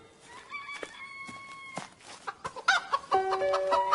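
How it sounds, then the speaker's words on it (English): Cartoon chickens cluck and squawk in a run of short, bright calls that grow busier and louder toward the end, with light background sounds and no speech. "Now it was Caillou's turn to chase the chickens"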